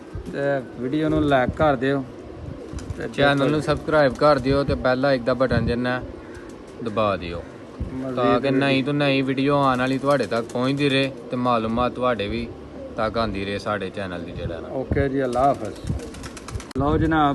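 Dubai-bred pigeons at a rooftop pigeon-flying setup coo steadily in the background, partly masked by someone talking continuously over them.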